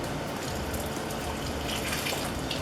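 Water pours steadily out of canning jars in a continuous, broad rushing splash that stays loud and even throughout.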